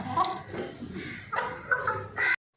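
A hen clucks several times close by, short throaty calls in an irregular series before cutting off abruptly.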